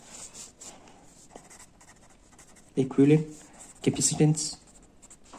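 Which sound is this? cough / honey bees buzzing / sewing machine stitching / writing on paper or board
writing on paper or board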